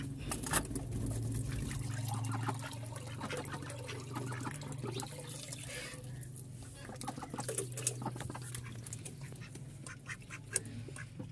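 Pet birds, likely ducks or fowl, quack and cluck near at hand as water is poured for them, with a steady low hum underneath and no speech.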